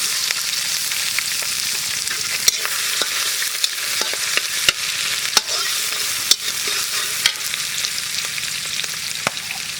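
Greens sizzling in hot oil with dried chilies in a village kitchen, a steady loud frying hiss broken by scattered clicks and stirring scrapes, with no voices.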